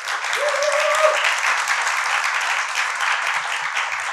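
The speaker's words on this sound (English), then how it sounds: "May I ask for a big hand of applause for Mira, the amazing speakers, and for yourselves being here today" Dense, sustained applause from a large indoor audience at a speaking event, steady and full for several seconds with a brief tonal sound near the start and no speech.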